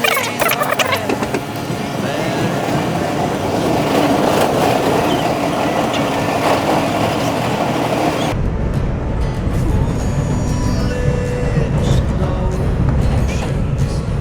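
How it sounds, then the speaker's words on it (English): An NYC subway A train bound for Far Rockaway pulls out of a station, a loud continuous roar of wheels and motors with rattling and screeching that shifts abruptly in tone partway through as the train gathers speed. "This is the Far Rockaway bound A train."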